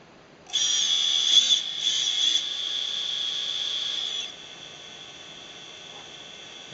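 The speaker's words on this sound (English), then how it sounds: "Give it a few little revs." A small, quiet, smooth-running Aikon engine given a few light revs: a thin, high-pitched whine swells suddenly, wavers through a couple of brief blips for about four seconds, then drops back to a faint hum.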